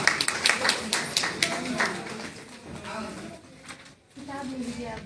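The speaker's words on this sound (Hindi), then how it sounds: "एक बार दीदी के लिए तालियां बजा दीजिए आप सभी लोग" Applause from an audience at a Hindi book launch for a satire collection, honouring a woman who spoke about the book; a burst of claps opens the clip, then fades under talking and murmur.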